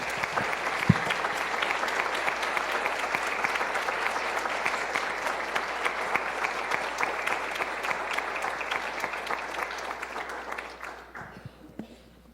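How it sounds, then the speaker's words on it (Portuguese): Sustained applause from a crowd in a municipal council chamber, steady clapping for about ten seconds that thins out and fades near the end, with a faint voice under it. "Peço à família que fique de pé para receber os nossos aplausos."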